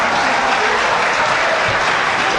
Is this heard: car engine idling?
no